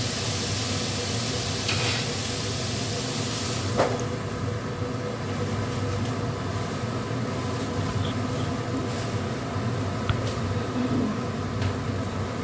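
Vegetables fry in hot oil in a pan alongside cooking khichuri, giving a dense, constant sizzling hiss that stays loud and even throughout, with a few faint clinks in the background.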